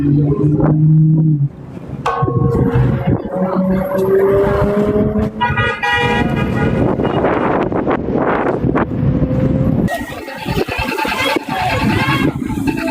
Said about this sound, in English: that guy's got to put a muffler on that